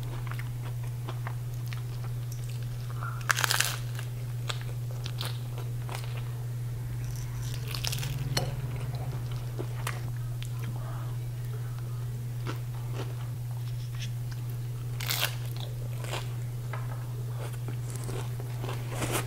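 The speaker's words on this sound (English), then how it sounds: "Let's try this Dorito taco." Biting and chewing a crunchy Doritos Locos taco from Taco Bell, scattered sharp crunches and chewing bursts spread over a quiet stretch, close to the mic, with a steady low hum underneath.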